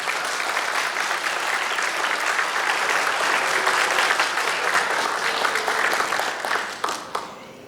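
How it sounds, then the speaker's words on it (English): A graduation crowd applauds graduates with steady, dense clapping that holds for several seconds and then tapers off near the end, loud and continuous with no talk over it. "Please give them a round of applause for all their work."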